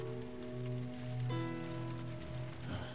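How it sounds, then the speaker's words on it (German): Steady rain patters across a surface over a low droning hum in the video game The Last of Us Remastered, continuous and fairly quiet, with no voices. "Und offensichtlich regnet's."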